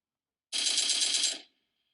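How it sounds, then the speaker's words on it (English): Video game gunfire sounds as a single dense burst of rapid automatic shots lasting about a second, sharp and close, followed by a brief ringing tail, with no talking. "Okay, so here's some shots already."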